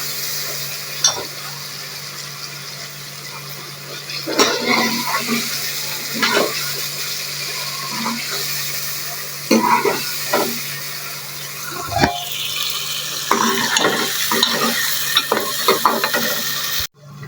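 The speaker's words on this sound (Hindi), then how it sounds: "हमने हरी मिर्चें भी डाल दी, साथ में टमाटर भी। और मिक्स कर रहे हैं" Chicken curry with green chilies and tomatoes being stirred in a pan, with soft scraping strokes and faint sizzling over a steady background hum, punctuated by occasional louder clinks of the spoon.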